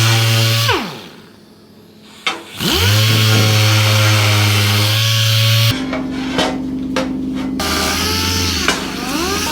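A compact D8 sander fitted with a 240 grit disc smoothing a metal part for a Royal Enfield bobber motorcycle: a loud, steady motor whine that winds down and spins back up, with pitch shifts as the disc is pressed on.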